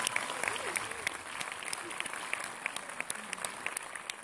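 An audience at a cinema film premiere in Rouen claps in a sustained burst, with sharper individual claps standing out against the dense crowd applause and faint voices underneath.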